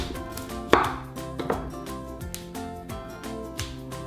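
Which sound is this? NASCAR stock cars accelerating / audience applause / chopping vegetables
chopping vegetables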